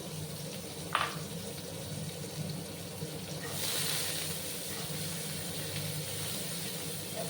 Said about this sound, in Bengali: এবার পেঁয়াজগুলোকে আমি একটু লাল লাল করে ভাজবো।